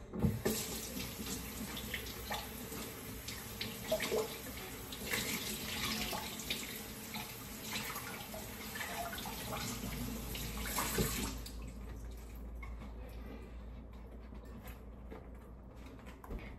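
A kitchen tap runs steadily into a sink while lettuce is washed under it, a close, continuous splashing stream with small bursts of spatter, then the flow quiets to a softer trickle near the end.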